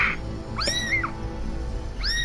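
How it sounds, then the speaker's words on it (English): A cat meows twice in rising, wavering cries, loud and close over a steady low background hum, during a chipmunk-versus-cat moment in the game Ultimate Chicken Horse. "The chipmunk is just punching the cat."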